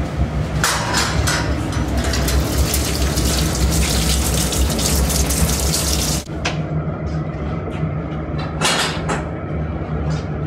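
Tap water runs in a strong, continuous gush into a sink while a whole chicken is rinsed off, with knocks and clatters of handling on top and a brief dip partway through.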